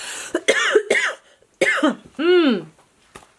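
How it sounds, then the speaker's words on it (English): Several harsh coughs come in bursts, a pair early on and another hacking fit later, with a throat-clearing sound near the end. "This cough is just terrible."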